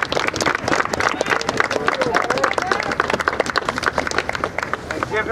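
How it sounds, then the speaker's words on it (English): A crowd claps and cheers for Desmond, an 11-year-old boy choked by police, at a street gathering. The dense, steady applause runs the whole time, with a voice talking loudly over it. "And give him a round of applause."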